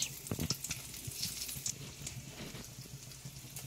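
Whole cumin, cloves, peppercorns and small cardamom pods sizzle in hot oil for a mutton curry, a faint steady crackle with a few sharper pops near the start.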